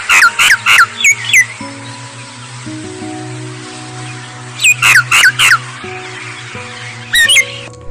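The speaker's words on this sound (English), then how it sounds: "The name of this bird is Myna." A myna bird calls loudly and close, giving bursts of sharp, squawking and whistled notes in quick clusters, with pauses between them over a steady low hum.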